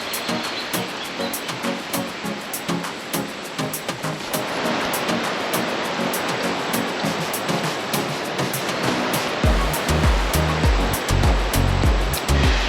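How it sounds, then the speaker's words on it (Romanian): A continuous roar of rushing, splashing water from a waterfall in Ivory Coast, steady and loud throughout, with a deeper churning rumble building toward the end. "Uite ce tare, ce cascade naturale"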